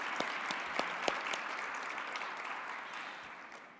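Audience applause at a city State of the City address in Salt Lake City, a steady wash of many hands clapping with a few sharp louder claps early on, gradually fading toward the end.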